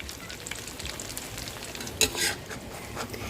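A flipped omelette of eggs with tom yum seasoning and enoki mushrooms sizzles in hot oil with a steady, close crackle, briefly interrupted by a utensil scrape and clink.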